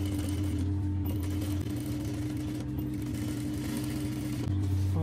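A sewing machine runs steadily while stitching a kandura dress, a close, continuous mechanical hum with a fast even stitching rhythm and a brief change in pitch near the end.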